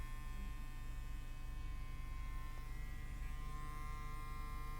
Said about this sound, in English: be careful when you're using your trimmer or your clipper